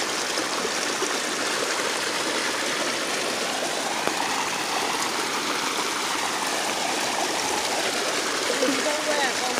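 Steady rushing and trickling of water flowing in a small creek, constant and close, with no pauses throughout.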